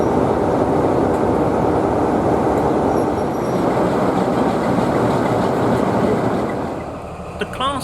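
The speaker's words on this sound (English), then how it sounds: "The Class 41 HST prototype is the predecessing loco to the Class 43 high-speed trains" Class 41 HST prototype diesel locomotive with a twin-bank 12-cylinder engine rumbling past nearby, a loud continuous growl with wheel clatter that dips briefly and then tails off.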